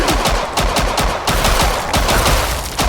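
Rapid automatic gunfire from Killing Floor 2, with dense, loud, continuous bursts of shots over the full three seconds, layered with clattering game-combat noise.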